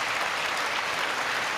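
Applause from the audience at the 2023 State of the Union address, a dense, even roar of many hands clapping that holds at a moderate, distant level throughout the short stretch, with no voices over it.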